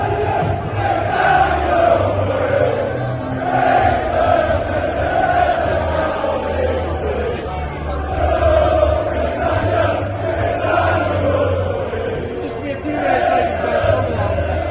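Large protest march crowd in Manchester, a dense, continuous roar of many voices chanting and shouting together, loud and sustained throughout with rising and falling swells.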